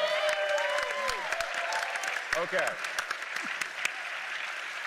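An audience at a PAX East 2019 improv panel claps and cheers in a burst of scattered, close applause that thins out over a few seconds, while a voice speaks over it.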